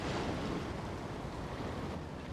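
Wind-driven waves on a lake beside Queenstown Gardens, New Zealand, in icy gusts, a steady broad wash of surf mixed with heavy wind rumble buffeting the microphone, close and continuous, with no talk.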